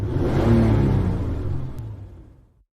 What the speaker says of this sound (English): My afternoon was interrupted by a noisy sports car.